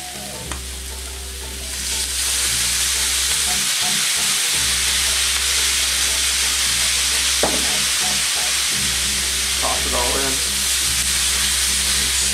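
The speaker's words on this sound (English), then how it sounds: "That sound is sizzling in cast iron." Kielbasa, peppers and onion with a splash of Worcestershire sizzle loudly in a cast iron pan, a steady close frying hiss with occasional stirring clatter.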